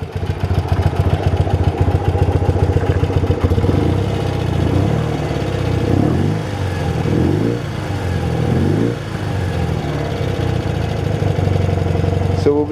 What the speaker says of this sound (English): sounds like this is idling now.